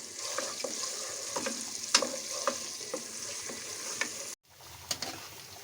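Garlic ginger paste sizzles steadily in hot oil with cumin while a spoon stirs it, giving close frying hiss punctuated by scraping clicks, with a brief break near the end.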